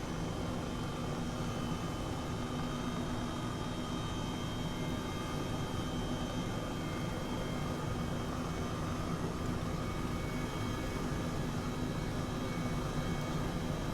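A helicopter in Microsoft Flight Simulator flies low and fast, its engine and rotor making a steady, unbroken broadband roar with a faint whine, constant and even throughout, with no talk over it.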